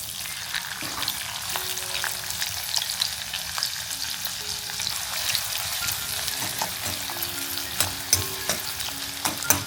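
Onion and garlic fry in hot oil for tempering in a Kokan village kitchen, giving a steady close sizzle with crackling pops and occasional stirring scrapes and clinks.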